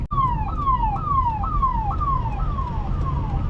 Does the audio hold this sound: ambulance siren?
yes